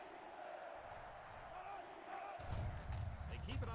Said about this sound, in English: Pump up whatever little crowd we got.